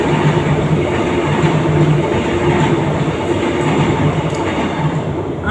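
A train passes with a continuous loud rumble and rattle of rail cars, a steady dense roar with faint clicking of wheels, nearly free of talk.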